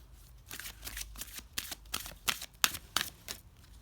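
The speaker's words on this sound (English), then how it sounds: "I'm just going to do kind of a little shuffle" Oracle cards are given a light shuffle by hand. The riffles and flicks come close and fairly quiet as a quick run of crisp papery slaps in an uneven rhythm, with no talking over them.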